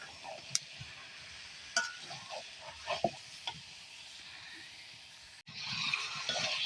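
Spice paste is sautéed in a pan with a soft sizzle, broken by scattered scrapes and taps of a stirring spoon, before a louder, steadier hiss rises at the end.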